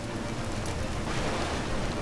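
Steady rain in the colony-building video game Against the Storm, a constant dense hiss of falling water with no breaks, moderately loud and heard alone.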